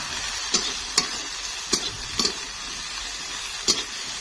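Tomato and onion frying in a pan, a fairly quiet sizzle broken by several sharp stirring knocks at uneven intervals, close by with no talking.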